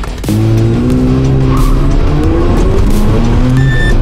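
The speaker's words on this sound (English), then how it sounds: "time to do a drive check now. All right, so let's give it a little bit of a check in this corner." A Mazda RX-7 on a test drive in Japan corners hard, engine droning loud and close inside the car while the tires squeal steadily through the bend.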